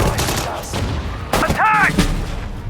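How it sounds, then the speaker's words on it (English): A gun fires in the World War II strategy game Sudden Strike 4 during the Battle of El Alamein desert campaign, a single loud, sharp blast with a voice heard around it. "Fire the gun!"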